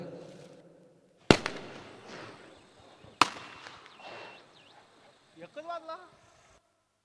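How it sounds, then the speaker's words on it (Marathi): Firecrackers go off to welcome guests at a village premier league match. Two sharp, loud bangs sound a couple of seconds apart, followed by crackling and crowd noise, and people talk in the background. "फटाक्यांच्या आतिषबाजीनं त्यांचं स्वागत केलं जात आहे"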